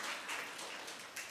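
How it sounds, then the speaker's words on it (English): Audience applause for a speaker at a legal masterclass evening on cross-examination, a brief steady wash of many hands clapping in a hall, moderately faint and continuous. "A round of applause, please, for Dr."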